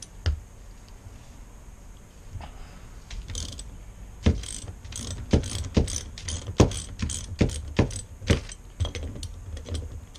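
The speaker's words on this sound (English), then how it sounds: "Next we'll remove the valve assembly." A 7/8 wrench ratchets the valve assembly out of a 1967 MGB Mk1 Armstrong shock absorber, a string of close, sharp metallic clicks that quicken into rapid bursts, with no talking.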